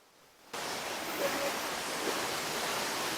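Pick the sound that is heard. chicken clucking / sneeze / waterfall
waterfall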